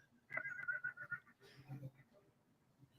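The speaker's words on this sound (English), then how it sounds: "horse going off there" A horse whinnies at rodeo grounds, a short, fairly faint high neigh with wavering pitch followed by a lower snorting tail, heard in an otherwise quiet outdoor setting.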